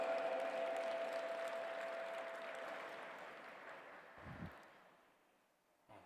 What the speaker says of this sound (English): Please put your hands together and welcome with a round of applause, Rodrigo Vitorino Souza Alves.